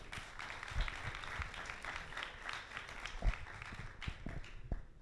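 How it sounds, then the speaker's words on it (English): An audience at an academic Q&A event claps for a president taking the microphone, a moderate, somewhat distant patter of hands with a few louder individual claps. "Please give him a round of applause."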